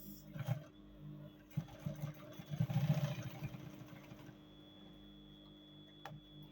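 Sewing machine stitching the underside of a cargo pants pocket, a close motor whir in short bursts, the longest run mid-way, with pauses and a faint mechanical hum between.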